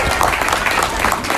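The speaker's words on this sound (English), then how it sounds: "Everybody, let's give the alligator a round of applause." A crowd claps and cheers at an outdoor alligator show in the Florida Keys, a short, loud burst of mixed applause with some voices.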